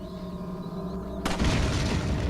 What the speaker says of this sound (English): If you're too close to an explosion but not close enough to take damage, the dynamite will stun you